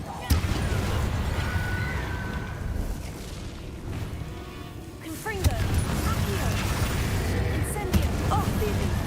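Confringo fire spells blasting and exploding in the Hogwarts Legacy video game, with repeated booms and bursts over a dense, continuous bed of game effects and music.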